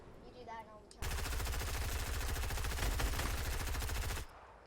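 Video game gunfire rips out as one long rapid automatic burst lasting about three seconds, loud and close, with a faint voice talking briefly before it starts.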